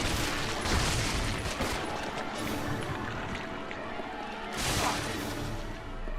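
Gunfire in the video game Resident Evil Zero, a loud crashing burst of shots with noisy reverberant tails, the densest blasts early and again near the end.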